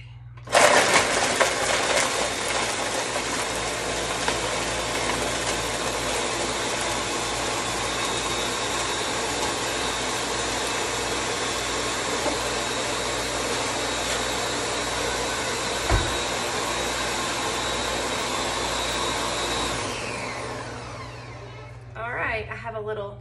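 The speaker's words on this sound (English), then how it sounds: "So this blending will be very loud." A blender crushes ice for a piña colada shake, giving a loud, continuous motorized roar for about twenty seconds. It then winds down, and light clinks and handling noises follow.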